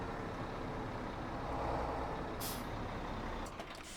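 Semi-truck in the Farming Simulator 17 video game, a steady engine drone throughout, with a sharp air-brake hiss midway and brief clicks near the end, no talking.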